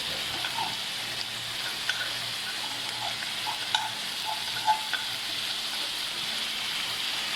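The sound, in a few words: mutton keema frying with green chilli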